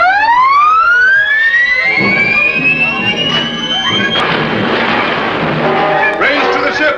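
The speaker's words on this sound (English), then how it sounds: "Sound the collision alarm." Submarine collision alarm on a surfaced boat, a loud rising electronic whoop that climbs and then holds as a steady blaring tone, with shouting and commotion underneath.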